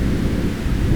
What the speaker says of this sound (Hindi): तेज बारिश शुरू हो जाती है।